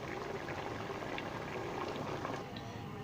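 Water simmering off tender cooked beef in a pressure cooker for bhindi gosht, a steady dense bubbling and sizzling hiss that stays close and even throughout, with no voices.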